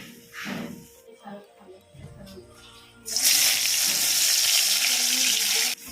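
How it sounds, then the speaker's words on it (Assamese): Eggplant slices frying in a pan give a loud, steady sizzle that starts abruptly halfway through and holds for several seconds, after quieter kitchen clatter and a person talking. "মই বেঙেনা ফ্ৰাই কৰিব লৈছোঁ।"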